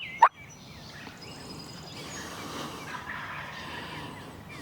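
A single loud, sharp wild turkey gobble bursts out near the start during a spring hunt in New England, then fades into a quieter outdoor background with faint distant bird calls.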